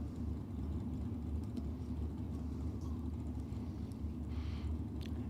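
Two Chev-powered Holden drag cars at Sydney Dragway, a low, steady engine rumble idling at a distance, continuous and even throughout without any voices.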